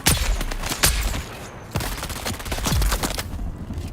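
Rapid gunfire and heavy blasts from grenades fill a Dune video game battle, with dense overlapping bursts and sharp cracks sounding loud and continuous, and no voices heard.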